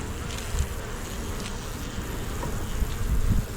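Honey bees buzzing around a hive whose brood box is nearly full, a continuous soft drone of many wings with slight swells and dips, fairly quiet with no talking.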